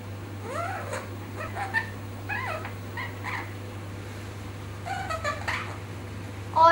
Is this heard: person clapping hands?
no